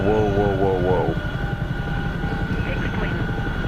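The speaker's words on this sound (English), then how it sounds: "Uh-oh, the Chinook's going crazy." A Chinook helicopter in a video game flies erratically, its rotor thumping in a fast steady pulse with a loud engine drone underneath and a brief warbling tone at the start.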